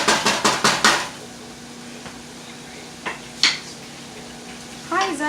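Fried seafood rice goes into a skillet with a quick run of clattering scrapes and taps at the start, then quieter scattered knocks and a brief voice near the end.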